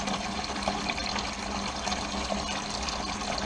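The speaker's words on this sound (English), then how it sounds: "It actually needs a little bit more water there guys. I'm just going to put some more in." Water poured into a cleaning container for washing metal-detecting finds, a loud, steady, close rush of running water with no pauses.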